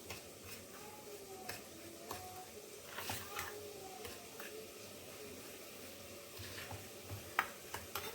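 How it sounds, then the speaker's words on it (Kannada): Grated carrot stirred in ghee for halwa, a soft sizzle under scattered spoon scrapes and light taps against the pan, close and quiet throughout. "ತುಪ್ಪ ಹಾಕೋತಾ ಇದ್ದೀನಿ. ಇದನ್ನು ಸ್ವಲ್ಪ ಮಿಕ್ಸ್ ಮಾಡ್ಕೋಬೇಕು."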